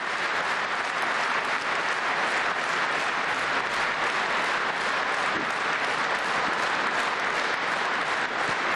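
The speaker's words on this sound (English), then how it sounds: "President Putin receiving strong applause there from the two houses at the Russian parliament" Strong, sustained applause from the assembled members of both houses of the Russian parliament fills the hall evenly and loudly from start to finish, with no voice rising above it.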